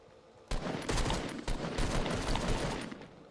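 A gunfight in the video game Fortnite, a sudden onset of rapid automatic fire and overlapping shots, loud and continuous after a quiet opening, with no voices over it.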